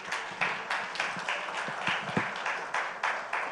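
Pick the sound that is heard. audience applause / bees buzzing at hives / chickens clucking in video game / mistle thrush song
audience applause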